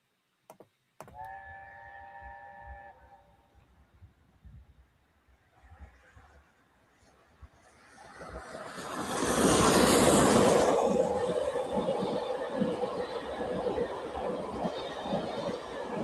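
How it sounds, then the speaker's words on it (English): A steam train gives a brief multi-toned whistle early on, then rumbles past with a loud, rising roar that peaks near the middle and carries on steadily to the end. "That was the steam train."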